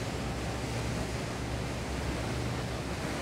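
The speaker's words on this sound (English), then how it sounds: "We've got a bit of a swell out here, so we should get an idea of how that hull copes with the waves." A Princess F65 motor yacht runs through sea swell, producing a steady, loud rush of water and wind along the hull with a low engine rumble beneath. The sound is close and continuous, with no speech.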